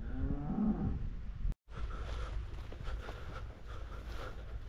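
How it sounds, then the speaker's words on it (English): A big cow in a field lets out a long, deep moo that swells and then cuts off, followed by faint outdoor ambience. "There's just one bruiser of a cow in a field."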